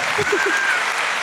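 Crowd at a book festival applauding writer Alain Mabanckou, a brief stretch of steady clapping with a voice briefly heard over it near the start.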